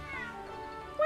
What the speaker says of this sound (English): Wonder how he got in here. Clever cat.